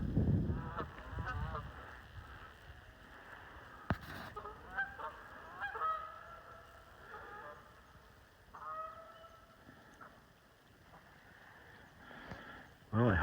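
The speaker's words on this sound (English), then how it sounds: "All of a sudden I heard honking. That was 3 more geese that came into the pond from wherever they've been." Several geese honk from a distance as three more birds come down onto a pond. Their calls are scattered and faint, mixed with wind, footsteps and a voice during an outdoor hike.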